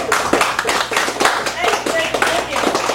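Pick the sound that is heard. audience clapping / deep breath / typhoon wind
audience clapping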